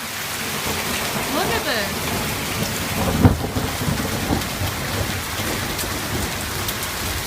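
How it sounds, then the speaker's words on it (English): Thunderstorm with steady heavy rain and hail pounding outdoors, a continuous dense patter broken by one sharp crack of thunder midway, while a person speaks briefly and excitedly over the downpour. "I love a good storm."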